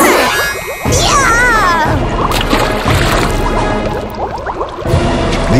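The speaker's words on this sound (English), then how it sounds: "The old witch fell into the boiling water," A cartoonish splash as a witch falls into a pot of boiling water, followed by loud squishing, bubbling and dripping liquid with whistling effect tones.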